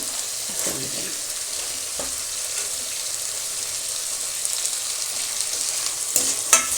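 Washed lentils frying with cooked tomato in a pan, a constant close sizzle broken by a few sharp spoon scrapes and knocks against the pan while being stirred, no talking.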